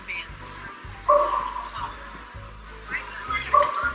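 A dog at a dog show barks and yips in short bursts amid busy show-ring background noise, with people's voices murmuring around it.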